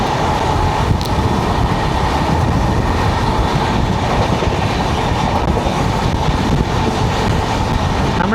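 An empty South Central Railway rake overtakes on the adjacent track, a loud, continuous rumble with steady clickety-clack of wagon wheels filling the whole stretch, close by and without talk.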